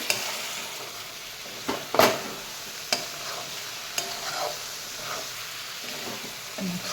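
Wet cashew kernels for a curry are stirred in hot oil in a pan, giving a soft continuous sizzle with a few sharp spoon scrapes and clinks, quiet and close with no talking.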